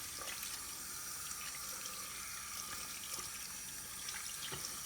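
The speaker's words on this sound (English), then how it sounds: "Wash hands for 20 seconds." Hands being washed under a running tap at a sink, a steady broad rush of water with small splashes and drips, close and continuous with no talking.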